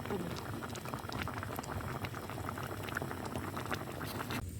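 A pot of corned beef sinigang at a rolling boil bubbles and pops continuously, a busy, close, steady burble of liquid with a faint voice in the background.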